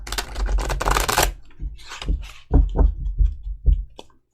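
A deck of cards is riffled with a fast fluttering burst, followed by several separate soft taps and slaps as the cards are squared and set down.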